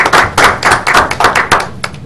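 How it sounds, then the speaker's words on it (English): Applause at a town Board of Selectmen meeting: a short burst of hand clapping, near and fairly loud, with uneven rhythmic claps over about two seconds. "You deserve applause."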